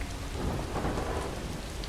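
A thunderstorm in the video game Far From Noise: steady, dense rain hiss with a deep rolling thunder rumble underneath, continuous and fairly soft, with no voices.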